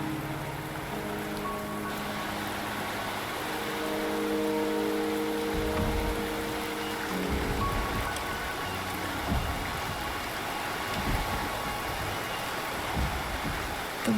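Rain falls steadily in the video game Wuthering Waves, a continuous soft patter on surfaces beneath low tonal background music, with occasional heavier splashes and thumps toward the end.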